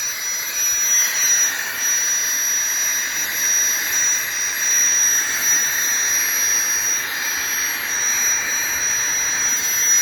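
Flextail Gear portable air pump running steadily and close by, a continuous whirring hiss with a thin high whine that holds at an even level throughout, with no talking.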